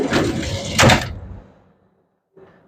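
A pull-out drawer in the storage compartment of a Ford lineman bucket truck with a 36-foot Altec boom slides along its runners with a rumbling rush and a firm thump near the start, then fades into quiet before another bump at the end.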